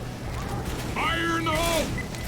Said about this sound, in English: I'm reloading.